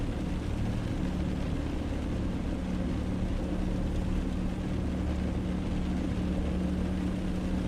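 A piston twin aircraft's engines drone steadily while taxiing slowly, a constant loud hum with a low tonal buzz and no pauses, heard alone without talk.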